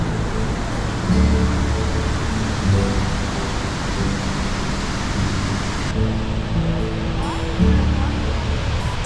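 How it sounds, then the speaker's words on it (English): Athabasca Falls in Jasper roaring as a broad, constant rush of falling water, loud and steady throughout with faint voices mixed into the background. "we're now at Athabasca Falls"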